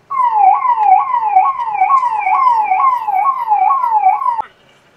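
A loud, close siren wails in about eight repeated rising-and-falling cycles, then cuts off abruptly, leaving near silence.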